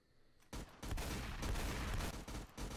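Rapid bursts of gunfire in a shooting video game, dense overlapping shots in several volleys with brief gaps, loud and close.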